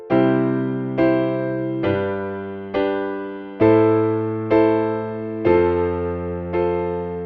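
Piano chords ring out one after another in a slow, even progression, each struck and left to decay before the next.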